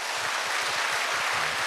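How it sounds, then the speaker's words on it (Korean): A church congregation applauds together in a dense, steady wash of clapping filling the room. "이분들 모두에게 우리 박수하겠습니다."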